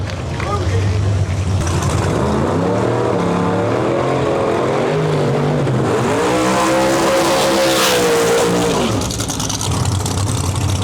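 Two Camaros drag racing down a track in a small-tire race event, loud engines roaring and revving as they launch and pull away, with an announcer talking over the noise.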